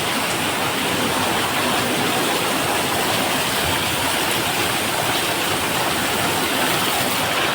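Heavy early-morning monsoon rain lashed by strong wind pours down as a continuous, full, rushing wash of noise, constant in level and close around the listener.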